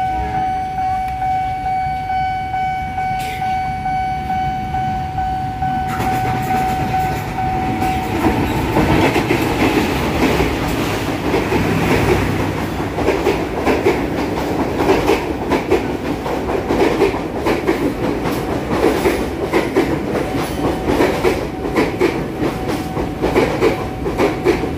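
A train rolls past on a double-track railway line, its wheels clattering loudly and steadily across the rails for about twenty seconds after a brief quieter lead-in with a tonal hum.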